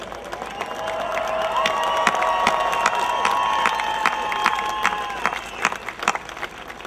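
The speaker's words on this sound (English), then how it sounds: "yes, you can clap for yourselves" A large crowd at an outdoor political address claps and cheers in a sustained burst, with whistles and shouts rising over the applause before it thins into scattered clapping.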